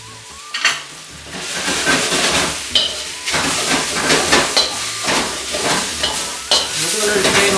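Noodles hiss and sizzle in a wok while repeated scraping tosses and clanks sound close and loud in an uneven rhythm.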